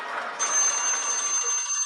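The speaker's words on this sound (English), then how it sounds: "Oh, my alarm is working." Alarm ringing as a thin, steady high-pitched electronic tone, sustained and fairly faint after a brief rustle at the start.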